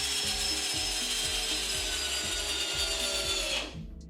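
A Ryobi R18PDBL cordless drill driver drives a small hex-head wood screw into wood, its motor whining steadily while the ratcheting clutch clicks in a regular rhythm before the tool stops abruptly.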